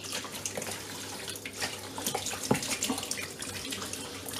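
Hot water runs steadily from a household tap fed by a boiler, a close, continuous splashing rush with small irregular spatters and no voices.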